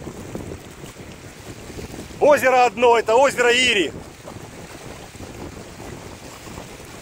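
Wind buffets the microphone in a steady low rumble at a lakeside kitesurfing spot, with someone speaking briefly in Russian partway through over the gusty noise.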